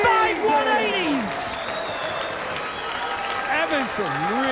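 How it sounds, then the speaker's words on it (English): Darts spectators at a 1987 British Professional Championship quarterfinal applaud steadily at moderate distance, the clapping running beneath a commentator's voice throughout. "He even got the Dellar fans applauding."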